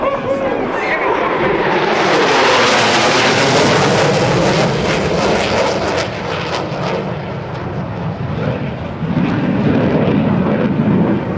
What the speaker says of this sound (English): The F-A-18 Hornet flown in today's demonstration is one that is regularly used in fighter